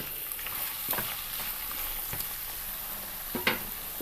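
Mixed vegetables fry in a pan for a mezhukkupuratti while a spoon stirs them, steady close sizzling broken by a few sharp scraping stirs, with no voices.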